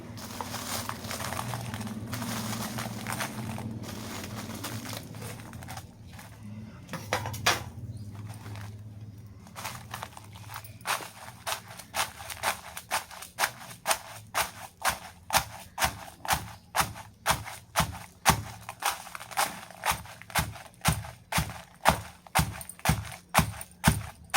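Curry leaves and garlic pounded in a small stone mortar, a long run of regular, sharp thuds near the mic, preceded by quieter scraping and handling.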